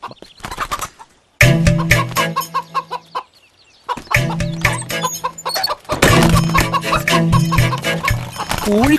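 Chickens cluck and squawk loudly in a Malayalam film comedy scene, coming in agitated bursts separated by short pauses, close and prominent.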